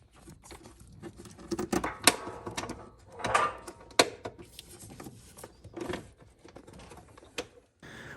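Bolts being tightened on the air cleaner box lid of a Toyota 4Runner during a snorkel install, heard as irregular close ratcheting clicks, taps and rattles of tools and plastic.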